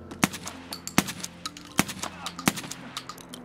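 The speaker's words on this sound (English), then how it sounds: "Oh, this was such an easy shot." Gunfire in the game Escape from Tarkov: several sharp, loud shots spaced irregularly, with smaller clicks and clatter between them and no talk.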